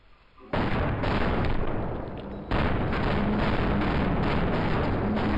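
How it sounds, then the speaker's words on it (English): Rocket explosions in Insurgency, two heavy blasts about two seconds apart, each opening into a sustained roar of rumbling debris and distant gunfire. "And they're all throwing rockets down there now."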